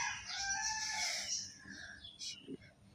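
A chicken with an injured leg vocalizes nearby, a drawn-out crowing cluck followed by a couple of short softer clucks, fairly faint.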